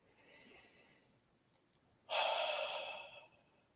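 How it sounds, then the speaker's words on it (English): A person takes a deep breath during a guided meditation, a soft inhale followed by a louder, longer airy exhale, close and alone with no talk. "Let's take a deep breath"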